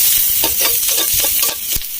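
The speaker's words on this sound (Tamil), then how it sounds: "ஓகே, இப்போ வெங்காயம் வதங்கிருச்சு" Onions sizzle loudly in a hot pan while a utensil scrapes and stirs them in quick, uneven strokes, with no talking.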